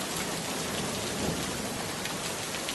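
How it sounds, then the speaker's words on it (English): A thunderstorm sound effect in a bedtime fairytale, with steady heavy rain hissing throughout and a low rumble of thunder beneath it, loud and continuous, without any talking. "many miles away, storm clouds were gathering"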